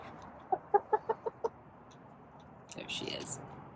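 A pet hen resting on a lap gives six soft, evenly spaced clucks close by, followed by a brief rustle of movement.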